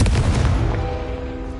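An explosive spell blast in a Harry Potter video game: a single loud booming hit with a sharp attack, followed by a ringing, tonal decay that slowly fades out.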